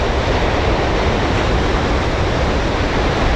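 Water gushes at high pressure from an outlet near Tanda Dam in Kohat, Pakistan, a loud, dense, unbroken roar with no pauses.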